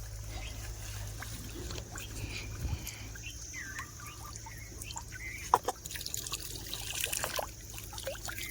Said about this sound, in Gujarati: પાણી આવે છે પીવા માટે.